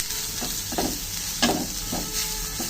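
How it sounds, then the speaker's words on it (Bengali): Green chillies, garlic and onion fry in a pan with a steady close sizzle, broken by several rhythmic scraping stirs of a spatula over about three seconds, with no voices. "এখানে কাঁচামরিচ, রসুন, পেঁয়াজ এগুলো একটু ভেজে নিচ্ছি"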